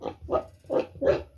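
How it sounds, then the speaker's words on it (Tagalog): A pet pig grunts and oinks in four close, loud bursts that come in a steady, uneven rhythm, with no talking. "Na-update na po natin yung ating alagang baboy."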